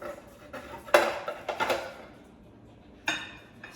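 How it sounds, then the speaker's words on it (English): A knife cuts a piece of home-baked meatloaf on a plate, making a few close clinks and scrapes of metal on crockery in short bursts, with quiet gaps between them. "I'm gonna cut off a piece"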